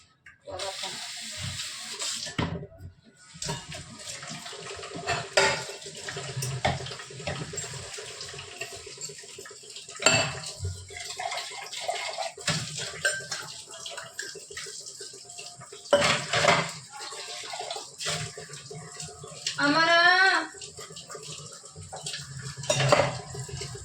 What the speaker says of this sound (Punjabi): ਥੋੜਾ ਜਿਹਾ ਭਾਂਡੇ ਸਾਫ਼ ਕਰਨ ਨਾਲ ਸਾਫ਼ ਕਰ ਲਈ